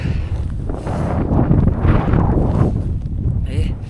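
Cold, gusty wind on the summit of Mount Kerinci roars across the microphone in loud, uneven surges, with a faint voice audible near the end.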